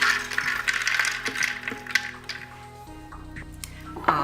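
Walnuts dropped into a food processor bowl already holding dates, producing a scatter of hard clicks and clatters that thin out into a few sparse taps.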